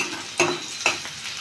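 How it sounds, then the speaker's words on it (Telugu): Ivy gourds sizzle and fry in a hot pan, with a steady crackling hiss and two brief scraping stirs. "ఇంతలో దొండకాయలు వేగుతున్నాయి"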